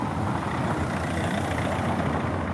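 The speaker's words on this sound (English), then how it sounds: "So this is the high street, got the calzada, so you can hear the cars." Cars driving along a cobbled high street, a continuous low rumble of engines and tyres with steady traffic noise and no talk.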